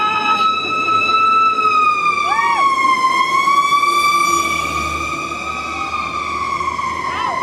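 Emergency vehicle siren on a Mission District street in San Francisco, wailing up and down in long sweeping cycles, loud and close throughout with steady traffic rumble underneath and a brief voice.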